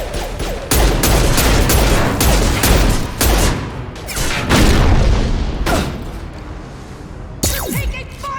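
Loud, dense gunfire and heavy explosions crash through a Mass Effect 2 firefight, a sustained barrage of sharp shots and booming impacts close up, with a few dull thuds in between.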